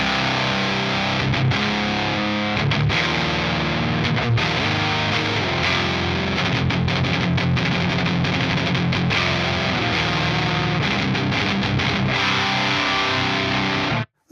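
An electric guitar with high-output rail pickups plays heavy, saturated riffs through a Fuzz Imp Furia distortion pedal, loud and dense with chugging chords and brief pauses, no voices.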